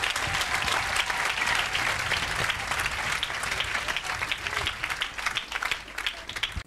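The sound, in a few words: congregation applauding in church service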